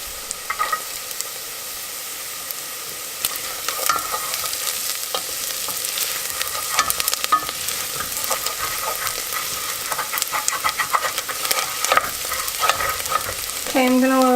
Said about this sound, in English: I'm gonna add in the garlic now